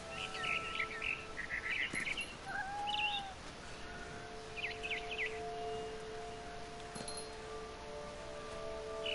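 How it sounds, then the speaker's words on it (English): A barn swallow in the video game What Remains of Edith Finch, chirping in short bursts and sliding twitters near an open window over a steady ambient hum, moderately close, with no voices. "Then I heard chirping outside my window. It was a barn swallow going back to her nest."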